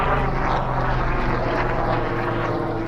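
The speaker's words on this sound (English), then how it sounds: "Always a helicopter in LA, or a plane." Helicopter or plane droning overhead in Los Angeles, a steady loud low rumble with a throbbing engine tone that holds throughout, no voices.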